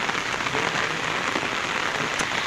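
Steady rain falls on a surface outdoors at night, a dense, even hiss of drops with no letup, close and fairly loud throughout.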